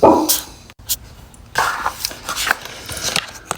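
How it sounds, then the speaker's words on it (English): Indoor dogs bark in short, loud bursts close by, several sharp yaps spread unevenly through the moment amid household noise. "My dogs barked and my brain went mush."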